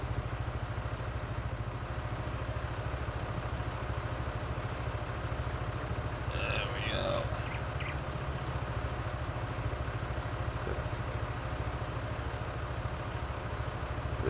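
A Mahindra tractor engine in the Farming Simulator video game runs as a steady low idling drone. A brief clatter sounds about halfway through.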